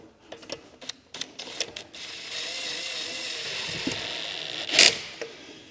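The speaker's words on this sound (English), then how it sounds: "so what you're hearing is the clutch in the drill" A regular DeWalt electric drill runs in Tesla lug nuts, its clutch clicking in a rapid ratcheting chatter that builds to a loud burst near the end, close and alone.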